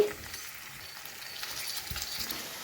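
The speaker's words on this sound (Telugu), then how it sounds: "టమాటీలు అయితే బాగా వేగించాలి" A steady, quiet sizzle of tomatoes frying in a pan continues throughout, with a faint clink of a utensil.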